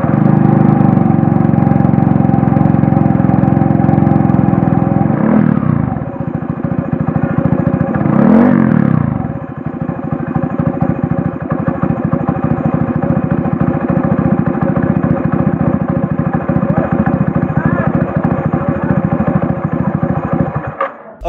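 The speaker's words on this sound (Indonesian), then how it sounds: "Oke, jadi ini dia suara knalpotnya." Custom Vespa Matic racing scooter with a Super Hedon exhaust, revved loud and close, two sharp rev sweeps rising over a deep, steady idle drone that carries on to the end.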